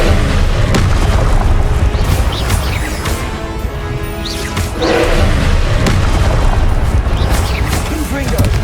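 A Confringo explosive spell in Hogwarts Legacy, booming blasts layered over constant loud combat noise, with repeated heavy thuds and crashes through the scene.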